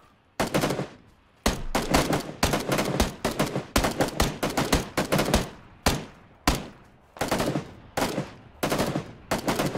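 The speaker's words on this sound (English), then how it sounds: "I'm getting shot." Gunfire in the PUBG video game: rapid bursts of sharp, loud shots in irregular rhythm, some clustered, others spaced out, each ringing out briefly before the next volley.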